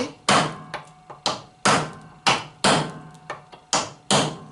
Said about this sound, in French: je vais pouvoir chasser